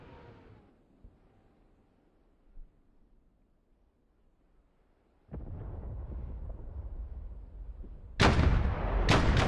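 Artillery fires in the DCS World flight simulator: after a quiet stretch of faint wind, a heavy boom hits and rumbles on, then a second, sharper and louder blast cracks near the end, with no talking.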